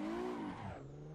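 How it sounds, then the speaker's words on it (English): Nissan S14 drifting on a competition drift layout, engine note rising then dropping as the car slides, with a tire squeal edge; a short, loud, close burst of revving that settles into a steady lower hum. "So I want to show you guys a bit of drifting"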